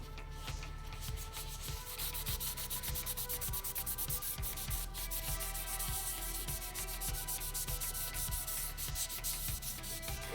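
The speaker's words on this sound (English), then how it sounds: "I'm a big fan of this, like, sandpaper cloth from Ace." Sandpaper cloth rubbed by hand over a 1940s lathe oiler, a steady run of quick, close scratchy strokes in even rhythm, fairly quiet and alone.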